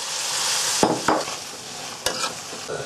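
Pork sizzles and hisses loudly in a hot wok with sauce, with a few sharp scraping stirs of a utensil breaking through the steady frying noise.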